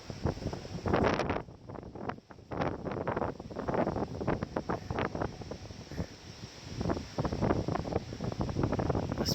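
Wind buffets a mountain trail near a power line, steady gusty roar and rumble pressing on the microphone throughout, loud and close with no talk.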